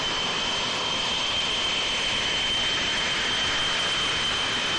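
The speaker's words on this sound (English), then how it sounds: "747 jumbo jet" A 747 jumbo jet's engines roar as a steady, loud broadband rush with a thin high whine running through, continuous and unbroken throughout.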